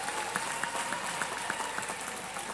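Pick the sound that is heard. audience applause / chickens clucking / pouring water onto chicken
audience applause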